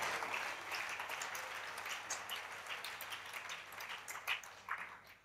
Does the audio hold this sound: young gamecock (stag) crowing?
no